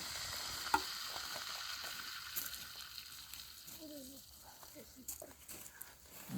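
A wood-burning potbelly stove for heating and cooking burns with faint, soft crackling and sizzling, with scattered small pops over a quiet indoor background.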